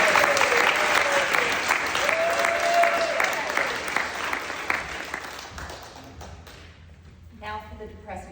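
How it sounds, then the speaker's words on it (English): Applause from the audience at a community gathering, a broad steady roar of clapping with a few voices and whoops rising over it, thinning out and fading toward the end. "Let's all give ourselves a round of applause"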